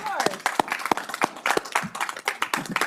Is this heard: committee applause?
yes